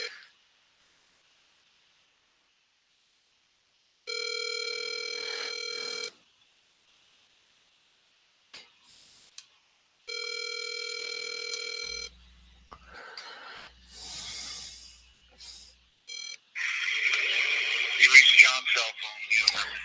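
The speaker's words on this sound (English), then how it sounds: "while we try to get him on the phone" Outgoing telephone call ringing on the line during a real estate cold call, two long electronic rings, each about two seconds, separated by a pause, followed by clicks, rustling and brief noises.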